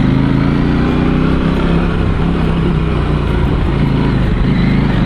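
A BMW motorcycle with a 21-inch front wheel is ridden through Sundown National Park, its engine droning loudly and steadily with rushing wind noise, no pauses.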